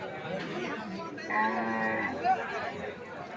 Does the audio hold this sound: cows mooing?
yes